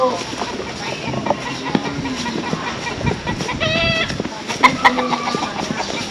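Chickens cluck and squawk nearby amid outdoor background noise, with people talking over them.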